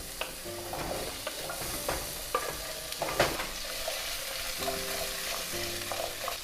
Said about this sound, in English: I'm giving it a little mix like that so that the oil can somewhat coat all of the vegetables